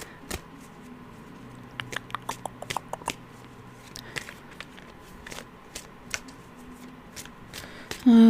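Tarot cards are shuffled close up in a run of irregular crisp riffles and flicks, sharp papery snaps scattered over several seconds, with no talk.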